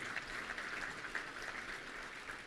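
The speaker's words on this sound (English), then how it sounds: "I think that's worth a round of applause" Soft, steady applause from a Little Rock Touchdown Club luncheon crowd honoring a dealership's donation of game tickets for kids, a faint, even wash of many hands clapping at a distance.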